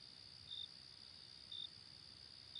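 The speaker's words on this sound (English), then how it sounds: "The crickets chirped loudly" Crickets chirp in a steady high-pitched drone, with brief louder trills pulsing about once a second against a quiet night background on the Nullarbor Plain.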